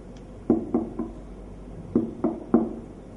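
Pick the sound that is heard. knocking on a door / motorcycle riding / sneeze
knocking on a door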